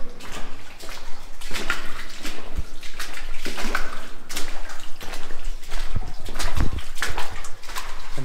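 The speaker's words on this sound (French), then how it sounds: "Je viens de me taper un tunnel où je marchais littéralement dans un ruisseau." Footsteps wade and splash through a shallow stream inside a tunnel on a long Alpine trek, with rhythmic sloshing steps and echoing running water, close and loud, with no talk.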